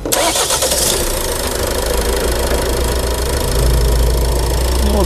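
A Renault Laguna engine turns over on a warm start and settles into a steady, loud idle, with a knocking mechanical tone running throughout and no talking.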